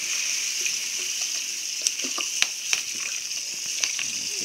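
Malted grain being stirred into hot water for a bitter beer mash, a continuous wet swishing and hissing texture punctuated by a few sharp clicks and knocks from the stirring.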